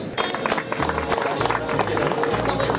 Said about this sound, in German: Der Applaus sollte nicht mir gelten